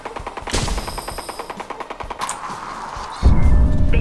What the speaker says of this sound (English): Why is there that gunfire?